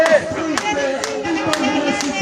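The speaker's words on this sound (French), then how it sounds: "sous les applaudissements et les encouragements du public" Roadside spectators at a hill-climb cycling time trial clapping in sparse, evenly spaced claps while a commentator talks over them.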